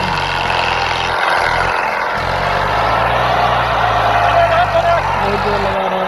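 A Mahindra Yuvo tractor strains hard to haul a trolley loaded with sand, its engine a loud, steady low drone with a few brief dips in the rumble.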